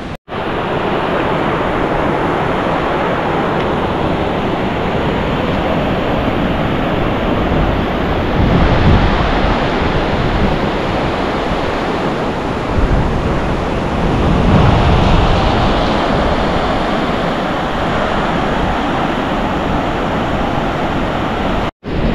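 Sea waves surge and wash continuously along a shore where koli fishermen catch catfish, a loud, dense roar with swelling rushes and wind buffeting the microphone, with no voices.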